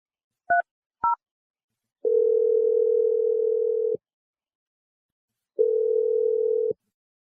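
Two short touch-tone dialing beeps are followed by two long, steady telephone tones separated by a gap as a call is placed, clean and alone with no voices.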